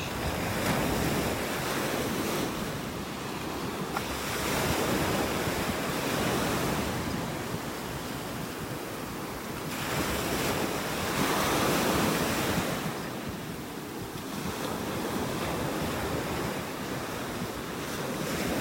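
Waves roll onto a beach in North Naples, Florida on a quiet morning, a continuous loud surf wash that swells and ebbs in slow cycles, with wind buffeting the microphone.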